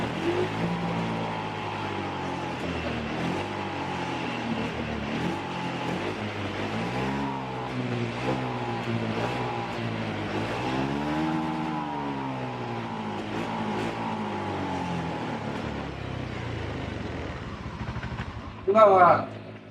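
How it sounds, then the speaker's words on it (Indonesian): A Honda Beat scooter engine idling and sputtering unevenly with a fault, its pitch swelling and dipping repeatedly, heard close up with a louder burst near the end. "Jadi karena motor ini berebet,"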